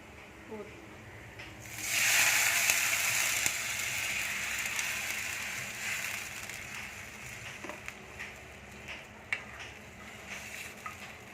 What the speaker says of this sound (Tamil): இப்போ நான் தேவையான அளவு தண்ணி ஊற்ற போகிறேன்